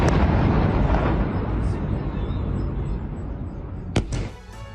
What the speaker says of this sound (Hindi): रिहायशी इलाकों के बीच विस्फोटक धमाके हुए हैं।